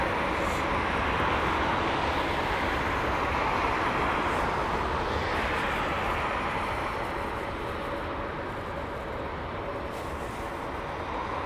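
An unmarked Danish Air Transport A321 touches down at London Heathrow in the rain, a broad, steady roar of engines and spray heard from a distance, with no voices.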